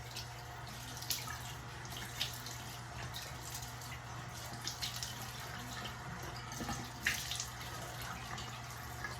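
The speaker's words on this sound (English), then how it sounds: "All right, let's wet the face." Tap water runs steadily into a sink while the face is wetted before a shave, a soft continuous stream with faint splashes and drips, close and quiet, with no talk.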